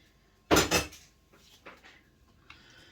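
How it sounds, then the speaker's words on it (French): Clattering scrapes and knocks of a utensil stirring chickpea chorba with vermicelli inside a Cookeo multicooker pot, one loud burst followed by fainter scrapes and a light clink. "Donc là, je vais mélanger."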